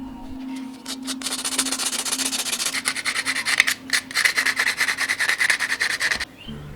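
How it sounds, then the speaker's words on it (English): Sandpaper scrubs the metal cover of a handmade carving pen in quick, repeated rasping strokes, close and fairly loud, with a faint steady hum beneath and short pauses between bursts. "Cover it up and sand it down by the sandpaper."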